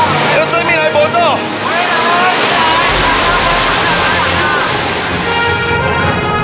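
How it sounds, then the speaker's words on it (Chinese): A powerful rushing waterfall of churning brown floodwater roars loud and steady below a steel cable, with voices shouting faintly over the constant torrent. "我现在脚下就是那个很湍急的瀑布"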